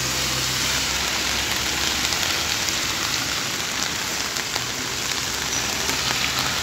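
Steady rain falls on the hard surfaces of a town square, a dense, even hiss with scattered drops and a faint engine hum underneath, continuous and unbroken with no voices.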